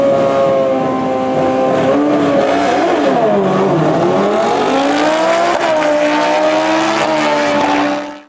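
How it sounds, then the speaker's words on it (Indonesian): A toy MotoGP racing motorcycle gives off a buzzing, engine-like whine that rises and dips in pitch over several seconds, loud and alone, then cuts off abruptly at the end. "Di sini ada motor balap."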